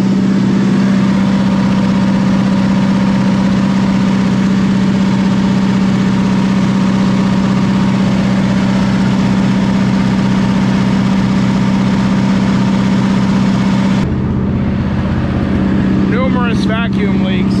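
A 1979 Ford F150 with a carburetor needing a rebuild and a likely vacuum leak idles high, a loud steady drone with a strong low hum that continues evenly before a brief change near the end.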